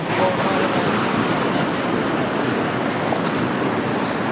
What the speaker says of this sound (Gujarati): ઓહો કેટલું મિત્રો પાણી જાય છે.